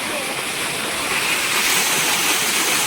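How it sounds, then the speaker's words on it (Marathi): Roaring rush of a waterfall near Mahabaleshwar, a dense, steady wash of falling water filling the air, close and loud, swelling slightly toward the end. "कसला धबधबा आहे त्या अंगावर पाणी येतं डायरेक्ट"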